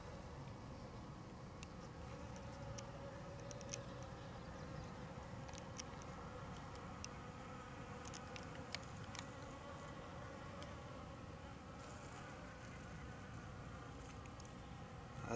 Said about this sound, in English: that's one bee that loves flying saucer, that's for sure.